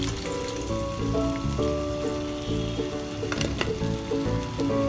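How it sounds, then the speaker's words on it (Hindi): Fish pieces frying in hot oil for wedding-style starters, a dense, steady crackling sizzle with a few louder pops, alongside some background music and no talking. "सारे पीसेस मैं इसी तरह फ्राई कर लूंगी फिश के।"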